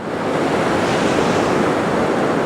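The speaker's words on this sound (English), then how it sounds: "bit of wave action." Waves break on a Bristol Channel beach during cod fishing, a loud, steady roar of surf with wind buffeting the microphone, filling the whole stretch with no talking.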